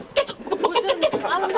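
A voice imitates a hen clucking, a quick run of short, rhythmic, nasal clucks delivered close and fairly loud, with no other sound around it.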